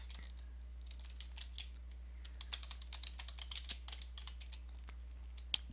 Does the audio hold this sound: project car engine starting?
no